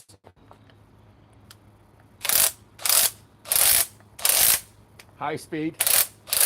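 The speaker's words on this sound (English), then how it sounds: "Now, let's take the R8721 half-inch right-angle impact wrench with a 2 amp max output, still on 4 bars." An R8721 half-inch right-angle impact wrench, battery powered, runs in five loud, evenly spaced hammering bursts at high speed. A brief spoken voice comes before one final burst.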